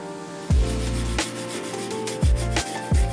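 Scotch-Brite pads and wire brushes scrub surface rust off Mercedes C63 AMG wheel hubs. Harsh, close rasping strokes repeat about four times in an uneven rhythm.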